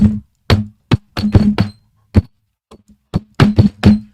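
Hand drumming on a hard cafeteria-style tabletop, a loose pattern of sharp knocks and thumps in quick clusters, close and fairly loud, with short pauses between phrases.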